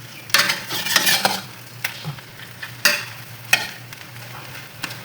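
Scrambled egg fries in a pan with a soft sizzle beneath sharp intermittent scrapes and taps of a utensil stirring it, close by.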